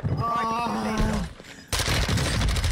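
Rapid gunfire and explosions in an online shooter game, dense loud bursts and booms with a sustained tone before an abrupt cut to more shooting, and someone's voice mixed in.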